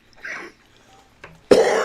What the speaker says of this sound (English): I hear you got coughing.